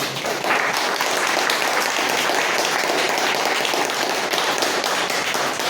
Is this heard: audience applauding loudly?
yes